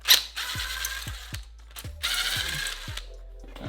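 Ratchet wrench backing out frame bolts on a KTM motorcycle during a rock-crawling build, with repeated clicking pawl strokes in bursts and short pauses, close and fairly loud with no talking.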